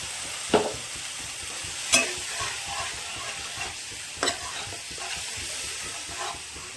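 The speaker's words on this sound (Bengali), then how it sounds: "ভালো করে নেড়ে কষিয়ে নেব।" Spice paste for pumpkin curry stirred and fried in a pan, with a soft sizzle throughout and a few sharp spoon scrapes and clinks at irregular intervals, close and fairly quiet.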